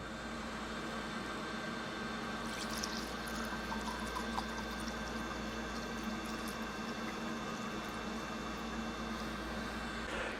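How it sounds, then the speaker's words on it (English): A filtered CBD ethanol solution is poured into a crucible for a Source Turbo extractor, making a steady, gentle trickling and hiss over a constant hum, with a brief brighter splash early on. "I'm now going to pour our filtered solution into the crucible for the source turbo"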